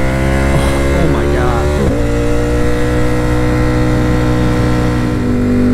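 A 2018 Ducati Panigale V4S engine drones loud and close while the bike is ridden, rising in pitch through revs, then dropping at a shift before holding a steady high whine, with wind noise and a little speech underneath.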